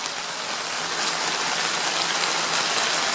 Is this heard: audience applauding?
no